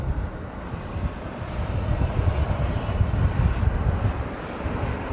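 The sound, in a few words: UPS Boeing 747 jet taking off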